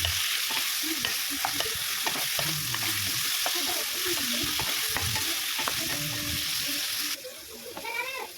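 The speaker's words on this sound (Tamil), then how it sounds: "நான் அஞ்சு தக்காளி பழம் எடுத்திருக்கேன் இதுவும் நல்லா வதங்கி வரட்டும்" Five tomatoes softening in a frying pan, heard as a constant close sizzle broken by frequent scraping and clattering stirs, fairly loud and alone until the stirring eases near the end.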